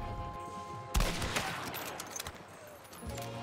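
Gunfire in the video game Hunt: Showdown: a sharp loud shot around the one-second mark followed by a dense, reverberant spray of further shots and impacts across the clip.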